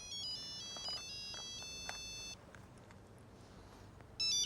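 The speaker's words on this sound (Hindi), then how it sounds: "एक मिनट, फोन आया।" An electronic phone ringtone plays in short, repeating bursts of bright tones, fairly quiet, pausing briefly before starting again.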